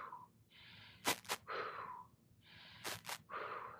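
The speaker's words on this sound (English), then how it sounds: "So I work in my breathing. So I breathe in and" Audible breaths drawn in and let out during a slow rocking exercise done with a neutral spine, in a quiet room. Two long breath cycles, each with sharp bursts in the middle, close and fairly soft.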